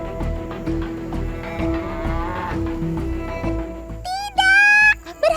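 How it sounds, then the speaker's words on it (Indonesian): Cattle moo repeatedly amid an oil palm plantation, with long, near, drawn-out calls, followed by a louder, higher, strained bellow near the end. "Kok bisa-bisanya sih ada sapi di tengah kebun sawit?"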